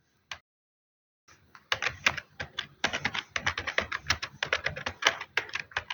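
Typing on a computer keyboard, with one isolated tap, a short pause and then a fast, irregular run of close, crisp keystrokes and no talking.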